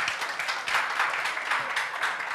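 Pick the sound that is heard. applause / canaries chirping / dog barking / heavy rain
applause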